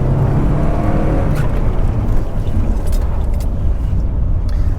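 A Volvo 740 drifts on snow during a Swedish winter, its engine droning loud and steady from inside the car as it slides, with no speech.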